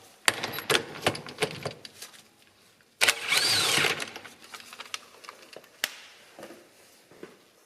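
A power tool, likely an impact wrench, works the pinion nut on a Spicer rear axle of an Amazon car. There is a dense rattling burst of about a second among sharp metallic clanks and knocks, close by with no talk.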